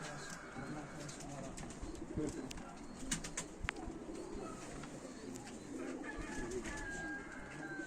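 Racing pigeons coo softly and steadily in a loft while young birds fly nearby, with occasional chirps and wing flutters; someone talks faintly in the background.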